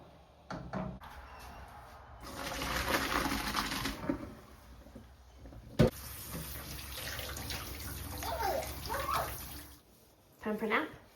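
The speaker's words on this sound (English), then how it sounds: "I'll rinse it probably 3 or 4 times in total" Tap water runs and sloshes as barley is rinsed in a bowl at a kitchen sink, with splashing that rises and falls over about ten seconds while a person talks.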